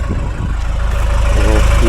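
A warm 1979 Mercedes W123 engine idles close by with a steady low, even throb that holds level throughout the short stretch, with no voices over it.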